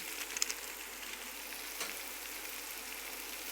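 Mutton masala roasting in hot oil gives a steady, close sizzle and crackle with a few brief spikes, with no one talking.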